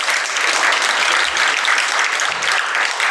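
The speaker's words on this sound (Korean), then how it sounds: "자, 이제 완전 학생들을 박수로 보내드리겠습니다." Steady, dense applause from an audience sending off students after their presentation at a youth history research contest, loud and continuous throughout with no pauses.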